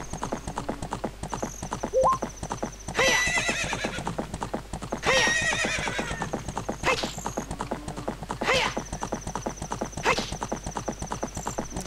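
Horse hooves clip-clopping at a steady gallop with several loud neighs and whinnies from a horse in the video game Zelda: Ocarina of Time, up close with no talk.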